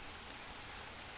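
Steady rain falls in the jungle survival game Green Hell, a soft, even hiss of drops that holds unchanged throughout, quiet and continuous with no voices.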